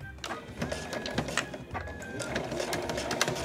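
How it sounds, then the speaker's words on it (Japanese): A home sewing machine stitches along a fabric edge for a small card holder, its needle chattering in a quick, even rhythm, close up with no talking. "大体ね家庭用ミシン押さえの端使うと 7、8mm で縫えるんですよ"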